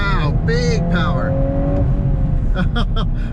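A 2022 Volkswagen Golf R accelerates hard out of a residential area. The engine note climbs in quick gear-by-gear sweeps and crackles near the end while the driver talks over it.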